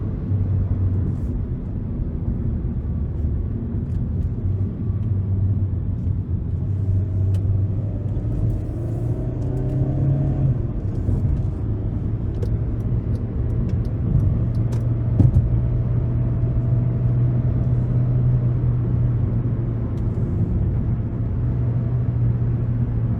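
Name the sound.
2014 Hyundai Elantra GT engine revving high in manual mode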